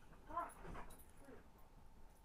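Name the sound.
dog whimpering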